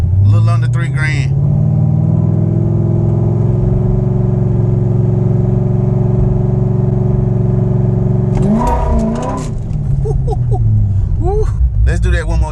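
A C6 Corvette with a Yank 3600 converter runs during a stall test, its engine held at a steady, loud rev for several seconds before dropping back, with talk at the start and end.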